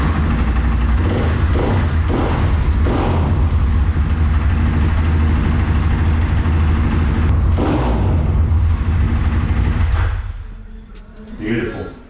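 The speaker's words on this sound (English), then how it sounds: "let's see if she'll fire up now" A KTM 500 EXC-F dirt bike engine fires up and runs at a steady, loud, close idle before cutting off near the end, with someone talking over it at times.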